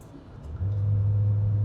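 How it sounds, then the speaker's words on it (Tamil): Engine note of a body-on-frame SUV heard from inside the cabin as it revs past about 3000 RPM: a steady low drone that steps up and holds, moderately loud, with no talking. "நீங்கள் பெடல் பண்ணி 3000 RPM கிராஸ் பண்ணும்போது இன்ஜின் நோட் லைட்டாக உள்ள கேட்க தான் செய்யுது"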